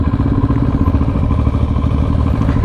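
A 2012 Kawasaki ER-6n motorcycle runs with a steady, loud, close engine drone and a faint clattery edge from stiff gear shifting, continuous for the whole stretch with no voices.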